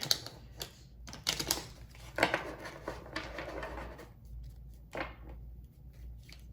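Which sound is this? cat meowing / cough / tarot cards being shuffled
tarot cards being shuffled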